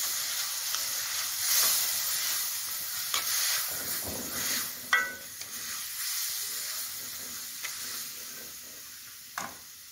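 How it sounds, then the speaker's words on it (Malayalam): Pieces of jackfruit core dropped into a hot pan and stirred for Kerala-style chakkakoonju thoran, a steady close sizzling hiss with a few soft scrapes and clicks of stirring, no voices. "ഇപ്പം നമ്മൾ ചക്കയുടെ കൂഞ്ഞ് കുത്തിയത് ഇടുകയാണ്. ഇട്ടിളക്കി വെക്കുക."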